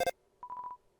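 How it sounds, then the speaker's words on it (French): A telephone rings in the Undertale video game as a short burst of four quick electronic beeps, clear and alone after a brief blip. "C'est le téléphone qui sonne."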